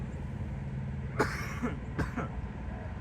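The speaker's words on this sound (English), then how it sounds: "This is gonna be a bad cough here" Two harsh coughs, about a second apart, sound over a constant low rumble of traffic or engine noise on a morning walk at Magic Kingdom, Disney World.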